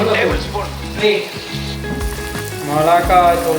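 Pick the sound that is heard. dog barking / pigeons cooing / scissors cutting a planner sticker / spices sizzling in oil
spices sizzling in oil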